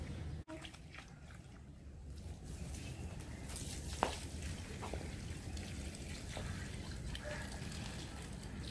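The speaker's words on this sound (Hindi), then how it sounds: "हाँ, ये सूखा हुआ, इसको लगाओ पानी।" Water poured from a container onto dry plants in a home garden while children do the watering; a soft, steady trickle and splash runs throughout, fairly faint, with a sharp knock near the start and a small clunk midway.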